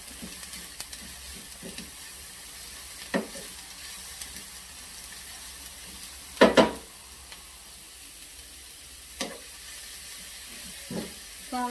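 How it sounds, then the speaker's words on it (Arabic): Chopped onion frying in a pan with carrot and squash added, giving a steady close sizzle with occasional stirring scrapes and a few louder clatters. "البصله راه تشحرات غادي نضيف ليها خيزو القرعه"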